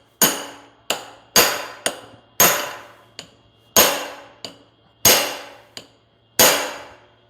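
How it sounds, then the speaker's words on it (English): Sharp metallic blows of a hammer on an aluminum punch drive a hydraulic cylinder gland, about ten hits at an uneven pace, each ringing briefly before the next, close and loud. "now we're going to hammer this gland back"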